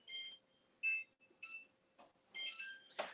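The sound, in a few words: kitchen timer beeping while set to 15 minutes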